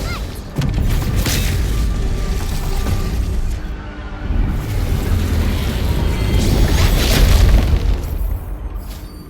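A destroyed anchor explodes in the Arknights Endfield video game: a loud, sustained booming blast with rumbling debris, surging again near the end, nearby and alone.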